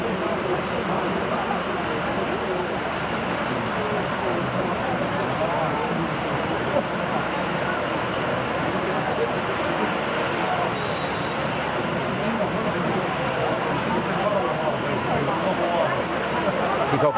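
Heavy rain pours steadily over an outdoor Gaelic football match at a championship quarter final in Waterford, a dense, even wash of noise throughout, with a commentator talking over it.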